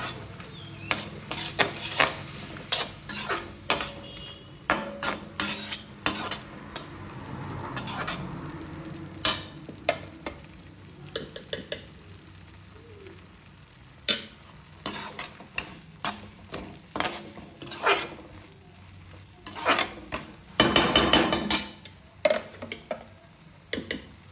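Vangibath masala frying and being stirred in a pan, a soft sizzle under repeated sharp scrapes and clinks of a spoon against the metal. The strokes come in irregular bursts, close and clear, with no talking.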